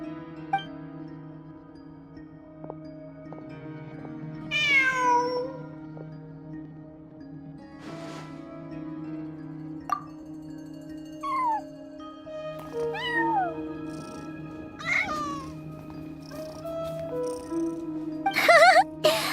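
Cat in Genshin Impact meows several times at intervals, clear, close and rising in pitch, over a steady background music drone with no talking.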